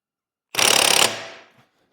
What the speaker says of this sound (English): We're going to get the new nut put on, and then we're going to start torquing that.